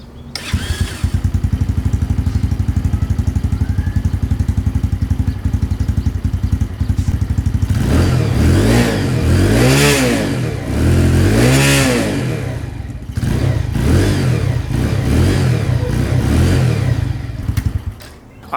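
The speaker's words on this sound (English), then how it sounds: "All right, so this is stock exhaust. This is the before sound, before we put the exhaust on it." Chinese motorcycle bought on Amazon, running on its stock exhaust, idles loudly up close, then gets blipped through several sharp revs that rise and fall before settling back to a rough idle.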